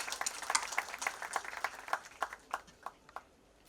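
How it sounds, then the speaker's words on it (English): Faint audience clapping at a ceremony for a semiconductor manufacturing plant in Maharashtra, scattered claps that thin out and fade to a few last ones. "Please give him a big round of applause."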